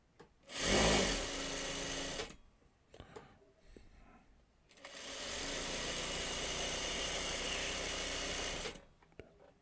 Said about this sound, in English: I'm gonna sew off here for a second